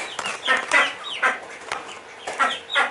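A rooster clucks in a run of short, throaty bursts with brief pauses between them, close by and fairly loud.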